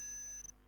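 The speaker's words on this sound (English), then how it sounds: "the alarm and the light will blink very fast like this so that it can caution everybody" Fire alarm system beeping in a steady, high-pitched tone for about half a second, then cutting off, leaving only faint room noise.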